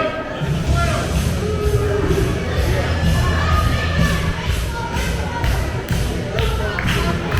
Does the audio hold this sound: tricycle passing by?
no